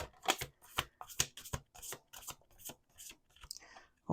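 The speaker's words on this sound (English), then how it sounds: "Let's do one more shuffle." A deck of oracle cards is shuffled by hand close up, with a quick series of crisp, papery riffling bursts separated by brief pauses, faint and alone.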